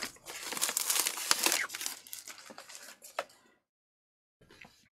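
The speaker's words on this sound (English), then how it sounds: "Some unwrapping." Plastic packaging of a newly arrived arcade stick being unwrapped, giving dense close crinkling and crackling for about three seconds, then a pause and a short final rustle.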